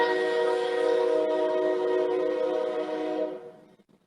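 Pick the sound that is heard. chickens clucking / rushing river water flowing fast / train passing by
train passing by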